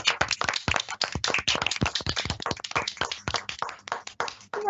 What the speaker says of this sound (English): So can we please have some applause and some cheers for Cherry?